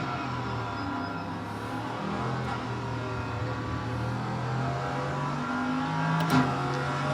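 A race car in a racing simulator runs steadily under braking and acceleration, its engine drone rising and falling in pitch over several seconds, with no voices.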